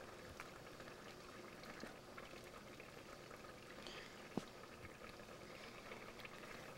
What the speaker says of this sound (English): Pour this, make sure you get enough broth to cover that rice noodle.